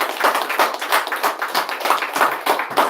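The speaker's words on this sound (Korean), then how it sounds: "박수로 맞이하겠습니다." Congregation in a church service clapping to welcome a pastor to the pulpit, a steady rhythmic burst of many hands at fairly close range with no talk over it.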